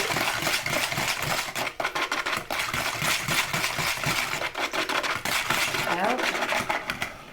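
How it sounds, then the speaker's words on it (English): Pudding mix being whisked into milk in a bowl for a peanut butter pie, a steady busy clatter of rapid metallic scraping and clinking that runs continuously throughout, fairly close. "Just whisk until it is thoroughly stirred."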